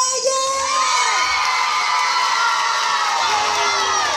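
Audience at a Spanish village festival performance cheers and shouts loudly, with children's voices prominent, a sustained dense crowd roar lasting throughout.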